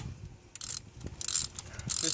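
Ratchet tightening the thermostat housing bolts on a 1997-2002 Ford F150, a few short bursts of metallic clicking close up and alone.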